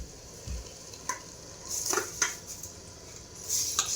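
Biryani masala being stirred and mixed in a pot: soft scraping and occasional clinks of a utensil against metal, irregular and fairly quiet over a low sizzle.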